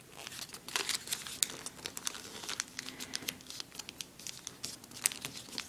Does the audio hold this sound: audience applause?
no